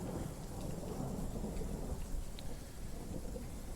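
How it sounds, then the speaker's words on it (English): Steady, heavy rain pours in the Arma 3 game world as rolling thunder rumbles beneath it, a dense continuous roar that holds at an even level throughout, with no voices over it. "Rain's back."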